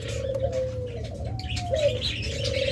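A pair of caged lovebirds gives thin, high calls and chirps, with a few sliding whistles, over a steady low background hum; other birds can be heard faintly nearby.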